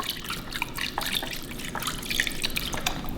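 Broth pours over rabbit meat in a steady, close liquid trickle with small splashing drips running continuously.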